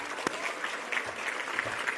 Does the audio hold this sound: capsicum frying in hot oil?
no